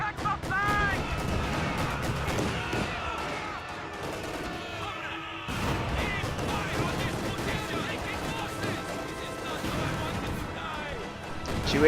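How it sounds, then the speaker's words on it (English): Anti-tank grenades blast a flak half-track in a real-time strategy war game, with bursts of explosions and gunfire clattering through a busy battle mix while a commentator talks excitedly over it. "AT grenades killed a flak half-track before the T-34 even has a chance to come into the engagement"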